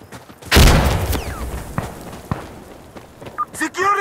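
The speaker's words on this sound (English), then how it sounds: "I'm throwing a grenade!" A loud grenade blast in Insurgency Sandstorm bursts up close, then rumbles away, followed by scattered thuds and footsteps. Voices speak over the action near the end.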